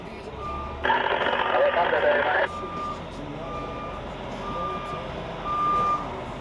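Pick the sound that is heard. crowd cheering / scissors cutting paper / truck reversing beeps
truck reversing beeps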